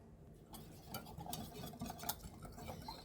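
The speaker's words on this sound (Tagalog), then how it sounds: "Now let's combine all the ingredients. Mix it well" Sauce ingredients with tomato paste and spice powder are stirred and mixed in a bowl, producing soft continuous scraping and light clinks of a spoon, faint and close.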